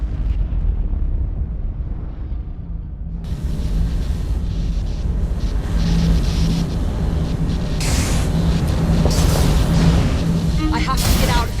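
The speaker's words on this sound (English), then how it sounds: "What was that explosion?" Piece of Eden detonating inside a lab in Assassin's Creed Syndicate, a loud sustained rumbling blast with crackling debris and bursts layered over a deep roar, with voices speaking under it.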